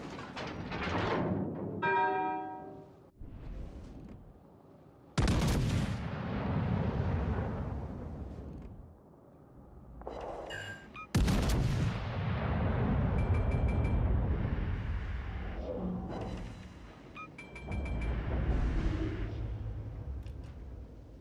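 Battleship guns fire in a naval video game, several heavy booming salvos with long rumbling tails, separated by quieter stretches with faint bell-like tones and mechanical hum.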